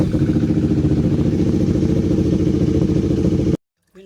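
A KTM RC390 motorcycle engine idles steadily and loudly up close during a coolant flush, a dense mechanical rumble with clattery texture that cuts off abruptly near the end, followed by a brief faint sound.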